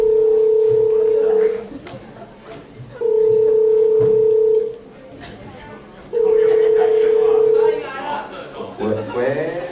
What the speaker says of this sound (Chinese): 每十分钟就来一通电话